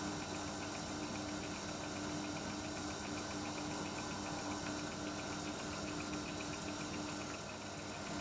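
An Emco Unimat 3 lathe spins a small brass bolt at about 1800 RPM, giving a steady, continuous motor hum with faint rhythmic vibration that holds unchanged throughout.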